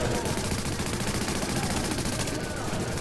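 AK rifle fire in the shooter game Tom Clancy's The Division, dense repeated automatic shots rattling continuously through the moment over background game sound.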